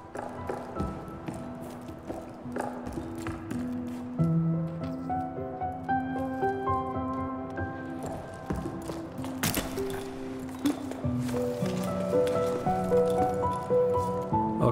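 Bubbling creatures in the video game Jusant, soft wet squishy pops and tapping blips scattered over a tonal musical background, moderately close and continuous.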